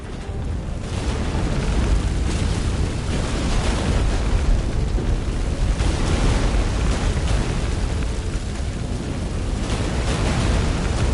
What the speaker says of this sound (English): An earthquake? We must hurry.